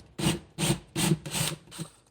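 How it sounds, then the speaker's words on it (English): A drill grinds through drywall in five short rasping bursts, each about a third of a second, close by with brief pauses between. "go ahead and get our drill and get right in the center of that pilot hole"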